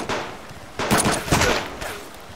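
Several close, sharp gunshots in the survival game Subsistence's multiplayer, a quick cluster of about three or four reports spread over a couple of seconds.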